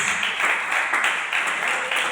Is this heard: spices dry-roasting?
no